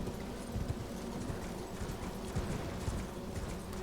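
A horse trots in the Elden Ring video game, with quick rhythmic hoof clip-clops over a dense bed of game music and ambience and no speech.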